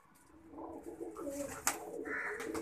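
A pigeon coos softly at close range, a few low throaty calls over a quiet background with faint ambient noise.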